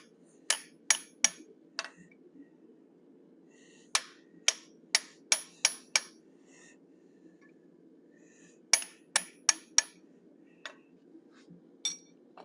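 A forged cougar or lynx head is struck with a side set, sharp ringing metallic hammer blows landing in quick clusters of three to five with short pauses between, close and clear over a faint low hum.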